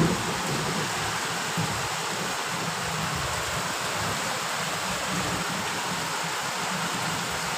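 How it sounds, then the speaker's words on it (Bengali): Continuous heavy rain pours down outside in a steady, dense wash of noise, even and unbroken throughout, with no voices. "কন্টিনিউ বৃষ্টি হয়ে যাচ্ছে, বৃষ্টি থামার কোনো নাম নেই।"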